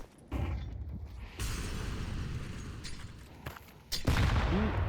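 Several abrupt blasts and bursts erupt in Counter-Strike on Mirage, one heavy grenade detonation near the end landing loud and close after earlier gunfire cracks over a steady mechanical background hum, with no talking.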